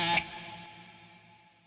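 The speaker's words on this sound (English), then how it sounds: "use Guitar Rig for my guitar sounds, and this one is a patch called Straightforward Metal" Electric guitar run through a Guitar Rig Straightforward Metal patch with EQ, reverb, delay and chorus: one distorted chord struck near the start, ringing out and slowly decaying with a shimmering echo tail.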